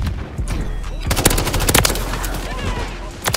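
Bursts of automatic gunfire and sharp shots in a video game shooter, loud and close, with a cluster of rapid cracks in the middle and a final shot near the end.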